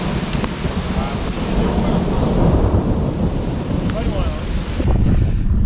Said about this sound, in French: Et vers midi je pense on s'est pris un orage de malade.